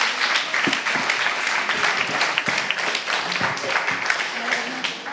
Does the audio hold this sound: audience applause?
yes